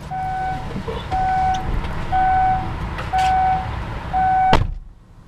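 Steady electronic car door warning beeps repeat about once a second, a dozen or so, with low engine rumble beneath and a door thud near the end.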